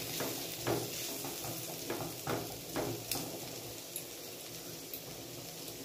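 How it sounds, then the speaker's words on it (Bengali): Potato and bitter gourd slices frying in a pan: a soft steady sizzle with occasional stirring scrapes and light taps of a utensil, close and quiet, with no talk. "ভাজাটা আমার হয়ে গেছে, একটু লাল লাল করে ভেজে নিয়েছি"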